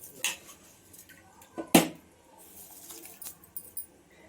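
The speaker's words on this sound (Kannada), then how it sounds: "ನೋಡಿ, ಕುಕ್ಕರ್ ಮುಚ್ತಾ ಇದ್ದೀನಿ." A pressure cooker lid is fitted and closed over boiling masala avarekalu bath, giving a few scattered metallic clinks and scrapes, with one sharp loud clank near the middle.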